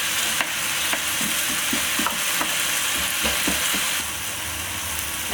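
Cauliflower rice stirred and frying in butter in a pot, with a steady sizzle and repeated scraping stirs throughout, close and fairly loud.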